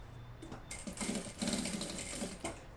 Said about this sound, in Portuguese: Eu vou passar aquela costurinha pra poder